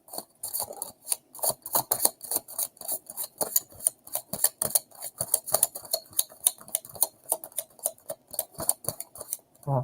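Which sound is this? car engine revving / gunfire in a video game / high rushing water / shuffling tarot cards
shuffling tarot cards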